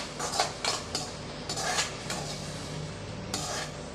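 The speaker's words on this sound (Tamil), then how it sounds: "இப்போ இதை நல்லா வதக்கி விட்டுக்கலாம்." Ground tomato stirred in a pan for Tamil-style egg rice, with repeated scraping and clinking of a spoon against the pan in uneven bursts over a low steady background.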